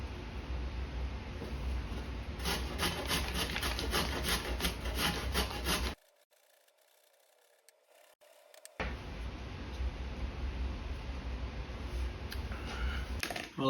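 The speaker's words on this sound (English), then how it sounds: "Now I'm going to use the large holes on the box grater to shred the carrots." Carrots being shredded on the large holes of a box grater while making potato salad, giving steady rasping strokes close by, then a few seconds of near silence before the grating resumes.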